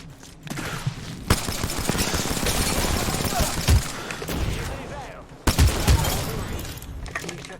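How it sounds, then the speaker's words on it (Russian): Sustained gunfire from the player's own weapon in a shooter game, a dense rattling fusillade with heavy thumps and a sharp break midway before firing resumes, loud and close amid game noise. "Стреляю."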